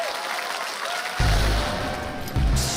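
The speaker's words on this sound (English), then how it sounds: "And Michael McDonald gets a little bit of applause from the 47th Ronin." A brief burst of applause from a small audience swells up abruptly and fades, then returns, fairly loud and without speech, in the setting of a Fightbox episode.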